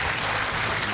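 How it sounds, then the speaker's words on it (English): Studio audience applause on a TV game show, a dense, steady wash of clapping that stays loud and even throughout the brief moment. "A round of applause, please, for Alexis and Henry."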